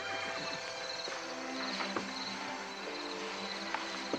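Horses and yearlings on a farm, hooves clopping irregularly alongside occasional soft whinnies, with crickets chirping steadily in the background.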